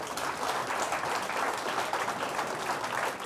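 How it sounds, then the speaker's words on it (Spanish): Steady audience applause at an evening champagne reception, a continuous wash of many hands clapping at moderate distance throughout, with no voices standing out. "Creo que deberíamos aplaudirlos nuevamente."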